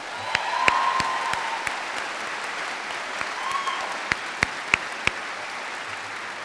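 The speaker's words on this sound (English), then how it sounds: "Can we give them a round of applause?" Commencement audience at a 2017 college graduation ceremony applauding steadily for several seconds, a dense wash of clapping with a few sharper individual claps near the end.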